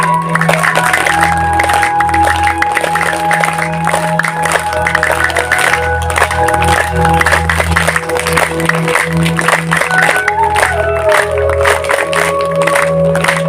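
Rhythmic group clapping from yoga camp participants keeps a steady, dense beat throughout, close and loud, with a low hum and scattered voices underneath.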